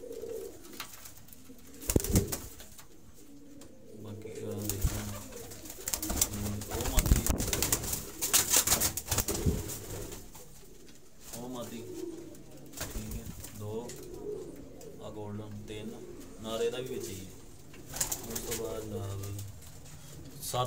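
Teddy pigeons coo repeatedly in soft, throaty phrases nearby in Faisalabad, while someone talks throughout and occasional flaps and rustles break in.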